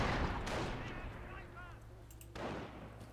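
Bursts of MG42 machine gun fire in the strategy game Company of Heroes, sharp gunfire cracks with a booming artillery-like quality in a busy battle mix, under a commentator's voice.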